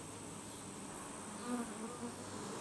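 Honey bees buzz at a Langstroth hive during an inspection, a steady, faint, continuous drone of many insects with a few slightly louder passes, no voices.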